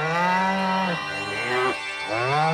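Cartoon cows moo loudly and close, giving several drawn-out lowing calls one after another.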